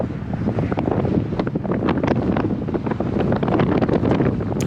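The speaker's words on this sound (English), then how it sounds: "That wind is really, really blustery here." Strong, blustery wind buffets a cyclist's microphone, a loud continuous roar broken by rough gusty thumps and crackles, with no voices.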